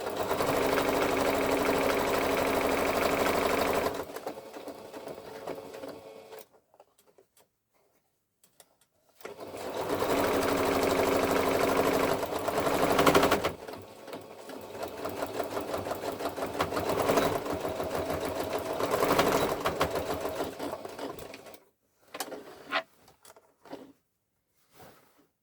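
A sewing machine top stitching a fabric bag, running in long continuous loud whirring passes separated by brief pauses and a few short stops and restarts near the end.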